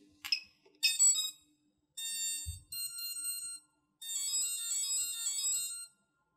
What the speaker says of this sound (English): make sure all four ESCs have finished their little musical tone